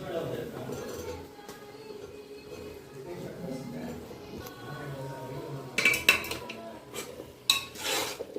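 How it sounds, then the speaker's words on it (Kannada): Mushrooms tipped into a pan of cooked onions and tomatoes for mushroom biryani, with the pan and a utensil clattering and clinking in a few sharp knocks over a low, steady kitchen background. "ಮಶ್ರೂಮ್ ಹಾಕ್ತಾ ಇದ್ದೀನಿ."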